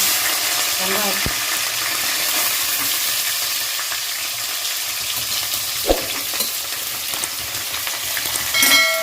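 Curry leaves frying in hot oil with popped mustard seeds for a duck curry gravy: a loud, continuous close sizzle with a few sharp crackles and pops breaking through.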